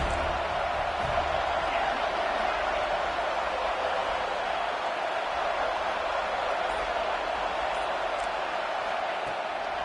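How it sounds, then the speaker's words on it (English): A crowd roars steadily in an NCAA 26 college football video game, USC at Florida State, as a dense continuous wash of cheering that holds at an even level throughout. "Decibels rising as the crowd gets behind this defense on 3rd down."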